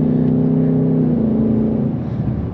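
Steady low drone of a 2024 Ford Mustang GT Premium 5.0L V8 with automatic transmission under way, a deep throaty hum holding close and loud, dipping slightly toward the end.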